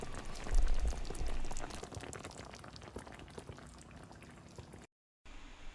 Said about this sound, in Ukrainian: Накриваємо кришкою і готуємо ще 10-12 хвилин на мінімальному вогні.